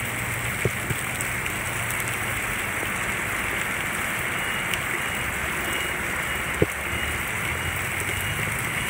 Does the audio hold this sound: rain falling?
yes